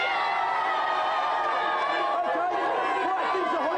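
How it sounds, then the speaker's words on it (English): A studio audience cheers for two contestants on the Gamesmaster game show, a steady crowd roar with chatter and whoops that swells and holds throughout. "Give them a cheer."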